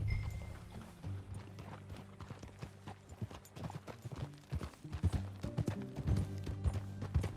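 Horse hooves clip-clop at a steady walking pace in the Red Dead Redemption video game, a soft, continuous rhythm of hoof strikes over a low background music bed.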